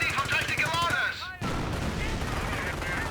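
Machine gun team firing in the Company of Heroes: Panzer Elite video game, a dense rattling burst of gunfire under a voice talking at the start, then continuous crackling fire after a brief dip.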